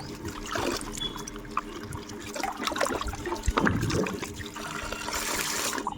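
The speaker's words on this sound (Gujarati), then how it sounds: "આપણે પેલા ટમેટા ડુંગળી ધોઈ લઈએ બરાબર પાણીથી" Tap water runs while tomatoes and onions are washed by hand. The flow is steady and splashy, with uneven trickles and sloshing as the vegetables are handled, and there are no voices.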